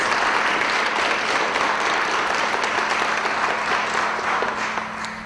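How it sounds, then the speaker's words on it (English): Dense, broad applause from a large audience fills the space as a continuous rushing wash of many hands, steady and strong throughout before easing slightly at the end. "I really think they do deserve a round of applause."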